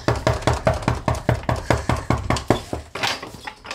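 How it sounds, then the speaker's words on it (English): A rapid string of loud knocks on a door, about a dozen steady raps in quick succession, close and sharp, with a short pause and a last muffled flurry at the end. "That's a lot of knocks."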